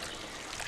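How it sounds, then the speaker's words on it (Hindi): Water pours in a steady trickle into a cup of tea, a continuous liquid splashing that runs evenly throughout with no talking. "ये पानी मेरी चाय में गिर रहा है"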